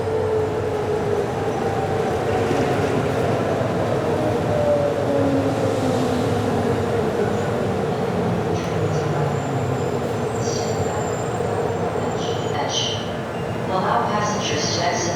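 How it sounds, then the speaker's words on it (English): A Miami Metromover train approaches Bayfront Park Station with a low, continuous rolling rumble and rising whine as it nears. Recorded announcement voices and chimes sound over the noise. "The train is approaching."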